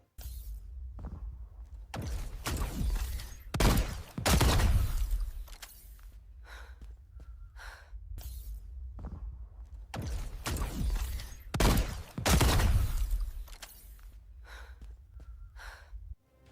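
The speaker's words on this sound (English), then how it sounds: "Our character is breathing heavily, and you can definitely hear that, as well as sounds of the gunfire in the environment." Heavy, ragged breathing close up, with loud bursts of gunfire breaking in at intervals and quieter pauses between them.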